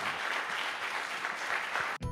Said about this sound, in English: Let's give the administrator another round of applause and thanks